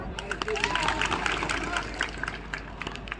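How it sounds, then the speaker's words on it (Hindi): Loud, dense applause from a large crowd at an Adivasi Mahasabha rally, steady clapping mixed with crowd murmur throughout. "जोरदार तालियां"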